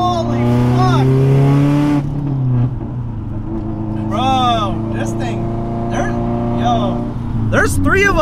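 A Subaru STI hatchback running E85 accelerates hard through a gear pull, the engine note climbing in pitch then dropping at a shift and climbing again, heard from inside the car with people talking and exclaiming over it.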